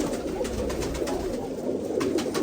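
Rampuri pigeons coo steadily in a loft, a soft continuous cooing murmur against constant background noise.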